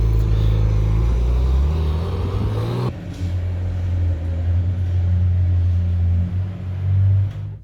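A Polestar 1 driving a lap around a car park, a steady low rumble of motor and road noise heard from inside the cabin, with a sudden shift in tone partway through and a brief swell near the end.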